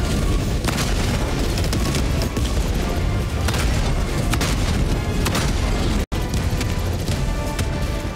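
An autocannon fires repeatedly in Helldivers 2, with heavy booming shots and explosions landing in a steady, loud rhythm, broken by a brief dropout near the end.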